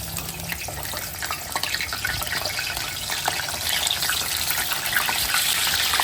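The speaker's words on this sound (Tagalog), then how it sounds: "Iprito muna tayo. Mainit na mainit yung mantika." Steady, loud sizzling and crackling of large whole fish frying in very hot oil, a continuous spattering hiss with no voices.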